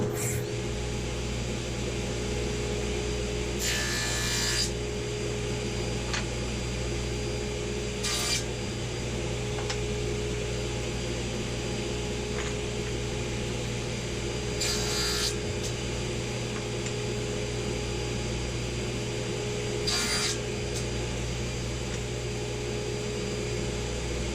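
Hand sawing through wood stock to square the ends before cutting segments, a steady low rasping drone broken by several short, bright bursts of cutting strokes, close and alone without talk.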